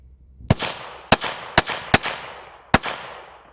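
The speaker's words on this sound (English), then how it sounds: "She's just practicing firing the gun." Five sharp pistol shots fired at a shooting range, irregularly spaced, each a loud crack with a short reverberant tail fading into quiet ambience.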